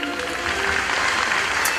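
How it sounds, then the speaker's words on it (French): A short burst of crowd applause, loud and dense throughout, with faint voices mixed underneath. "Elodie, vous pouvez applaudir Elodie les amis."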